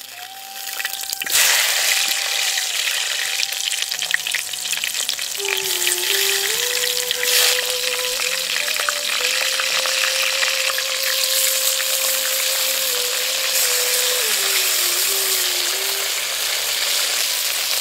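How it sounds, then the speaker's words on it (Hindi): Salted sliced brinjal frying in hot oil, a loud, continuous crackling sizzle with a faint tonal whine running through it, no voices. "अब बैगन को अच्छे से काट कर फैला कर नमक लगा कर तेल में डाल लें।"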